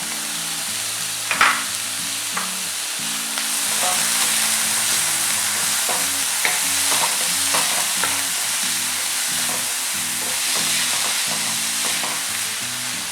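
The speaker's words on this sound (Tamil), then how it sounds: "ஸோ கடாயில் வந்து ஆயில் சேர்க்குறேன். ஆயிலில் வந்து ஆனியன் சேர்க்குறேன், பச்சை மிளகாய்" Onion and green chili frying in oil in a kadai, a steady close sizzle with intermittent scrapes and clinks of stirring throughout, no voices.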